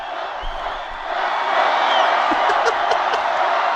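Large crowd at a Trump rally in Grand Rapids, cheering and whooping in a dense, steady roar that swells louder partway through, with a few individual shouts standing out.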